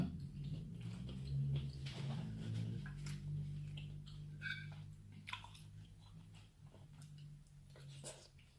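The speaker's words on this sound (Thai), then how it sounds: "เดี๋ยวจะลองกินนะคะ ว่ามันกัดง่ายหรือเปล่า" Someone bites into and chews squid from a spicy Thai papaya salad, soft wet crunching and mouth sounds close to the microphone, fairly quiet, with occasional faint murmurs.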